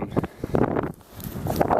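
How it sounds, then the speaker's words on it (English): Gusty wind buffets the microphone in uneven rushes, loud and close, with no one speaking. "I apologize for the wind, it's very windy."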